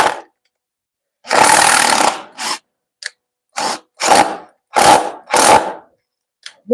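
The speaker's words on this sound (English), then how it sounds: "I've never had so much trouble driving screws into pine." Power drill driving screws into pine, several loud close bursts of motor whir and grinding, each lasting under a second to about a second, separated by silent pauses.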